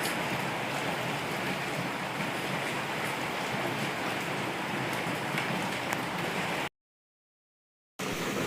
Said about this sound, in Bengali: বাইরে ভীষণ বৃষ্টি হচ্ছে আর আমার ভয়েসের সঙ্গে বৃষ্টির সাউন্ডও শোনা যাবে